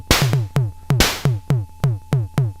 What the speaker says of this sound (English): and somewhere there's the snare.